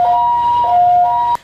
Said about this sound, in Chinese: 救护车也紧急赶到现场